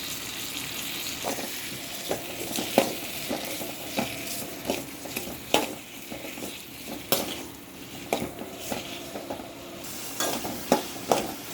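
Tomatoes with a little rock salt sautéing in a pan for sesame tomato chutney: a steady sizzle broken by repeated clicks and scrapes of a spoon stirring against the pan, nearby and without speech.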